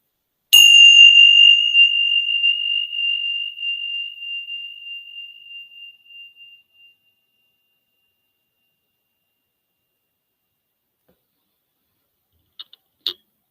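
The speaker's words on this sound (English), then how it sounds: "Wait for the last sound of the bell. Let it resonate throughout your body now." Meditation bell struck once, a clear bright ring that resonates and slowly fades over several seconds into silence, followed near the end by a few faint clicks.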